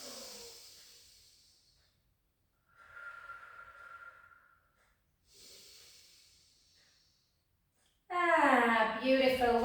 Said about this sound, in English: Take a breath in.